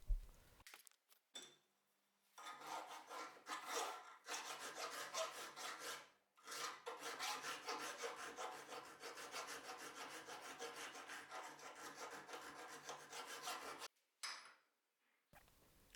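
A metal billet cut from a coin is worked by hand to remove cracks, giving steady, close rasping strokes in a continuous rhythm with a few short pauses and a faint clink.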